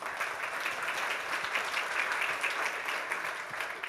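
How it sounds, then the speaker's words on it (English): An audience at an open source conference gives a quick round of applause, steady and dense clapping from many hands filling the room, with no voices over it. "We'll give him a quick round of applause."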